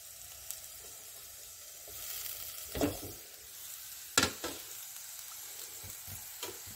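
Tomatoes hit a pan of well-cooked onions with a soft sizzle and a couple of sharp clattering stirs, the frying steady and fairly quiet throughout.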